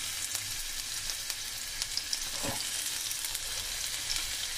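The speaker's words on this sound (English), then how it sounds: "I'm going to wait this ginger cook for a few minutes." Ginger pieces frying in real olive oil in a pan, a steady broadband sizzle that stays even throughout with small crackles, close and alone without any voices.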